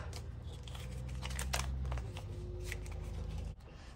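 Paper cash bills being folded up for a cash-stuffing savings box, with steady close crinkling and rustling of paper for several seconds before it stops abruptly.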